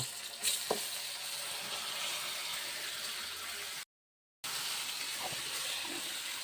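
Steady sizzling of chicken frying with ginger and garlic in a pan, a continuous crackling hiss with a brief clatter near the start and a short silent gap midway.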